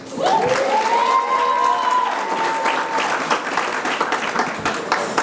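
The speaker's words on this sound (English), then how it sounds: "A clap for Serah." Audience applause at a Nairobi marketing evening event, sustained and loud for the full stretch with a fairly even clapping texture; a voice or tone rises and holds near the start, and some crowd sounds mix in.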